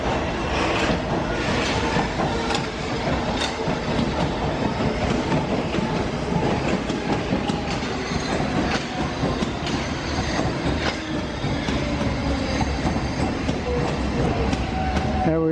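A London Underground Hammersmith and City line tube train running near Farringdon, with steady loud rumbling and rhythmic wheel clatter on the rails throughout, no voices over it.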